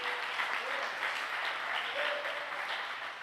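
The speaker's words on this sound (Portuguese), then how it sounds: "Você pode aplaudir o Senhor?" Congregation applauding during a church worship service, a steady dense wash of clapping that holds at an even level throughout, with faint voices mixed underneath.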